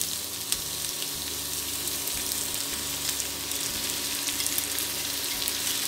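Pork hits onions frying in vegetable oil on a medium-heat stove for goulash, producing a loud, dense, continuous sizzle heard up close and alone, with no voices.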